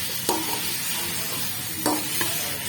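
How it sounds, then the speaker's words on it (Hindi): Tomatoes and browned chicken sizzle steadily in a wok for chicken biryani, with a spoon scraping and stirring through them twice, close and continuous without talk. "इंशाल्लाह टमाटर डाल के भूनते हैं इसको।"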